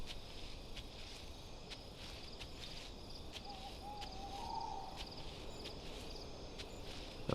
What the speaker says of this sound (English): I don't know what the exact ambient sound is that's the chirping you hear near water